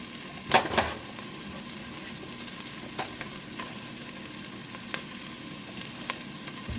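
Onion and meat frying over medium-high heat in a pan for bigos, Polish hunter's stew, a steady close sizzle with a loud scrape of stirring near the start and occasional utensil taps against the pan.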